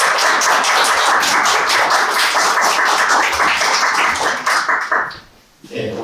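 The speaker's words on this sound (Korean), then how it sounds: "뜨거운 박수 부탁드리겠습니다." A crowd claps warmly at a Korean launch ceremony for a job-site opening, dense steady applause that holds for several seconds and then quickly fades out, with a voice starting to speak at the end.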